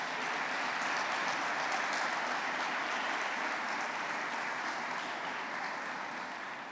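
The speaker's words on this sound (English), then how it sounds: "Let's just give them another round of applause." A crowd at a Veterans Day awards ceremony claps steadily in a continuous wash of applause that stays even throughout, fading slightly at the end.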